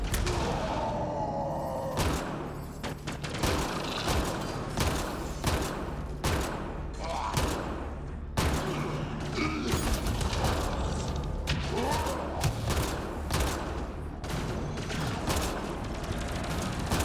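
Sustained gunfire in a firefight in Mass Effect Andromeda, rapid bursts of shots and thuds over continuous combat noise, with occasional groans and brief voices in the mix.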